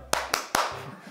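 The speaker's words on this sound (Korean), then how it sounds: "박수 한번 치세요." Three sharp, evenly spaced hand claps ring out close by, followed by a faint voice.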